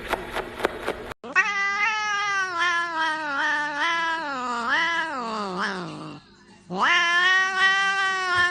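Domestic cats yowling and caterwauling, long loud wavering wails that rise and fall, briefly broken by a pause before another drawn-out cry, alone without talk.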